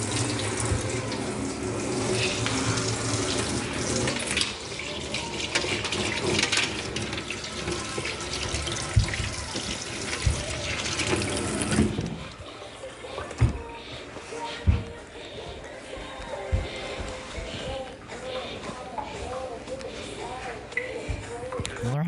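Tap water running while someone washes their feet at a sink, a continuous splashing flow that softens midway, with people talking over it.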